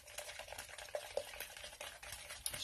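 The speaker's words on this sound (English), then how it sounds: "Stir that in." Baking powder being stirred into runny sourdough crumpet batter, giving soft, wet, continuous stirring and scraping with a few sharper clinks, close and fairly quiet, with no talking.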